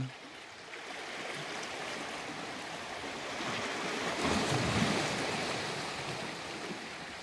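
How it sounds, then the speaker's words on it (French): Ocean waves crash against rocks in a steady, broadband wash of surf that swells louder toward the middle, with some wind noise on the microphone and no voices. "le bruit des vagues qui viennent se fracasser contre les rochers"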